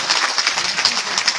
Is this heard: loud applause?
yes